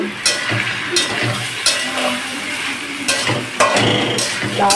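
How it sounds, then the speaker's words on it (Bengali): Cumin seeds and bay leaf tempering in hot ghee in a pot: a loud, close, continuous sizzle broken by sharp scraping stir strokes, with no voices. "জিরে তেজপাতা ফোড়ন দিয়ে দিয়েছি"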